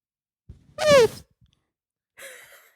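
A person's voice mimics an elephant slowly deflating: a short wheezy squeal sliding downward, a pause, then a quieter breathy fizzle trailing off.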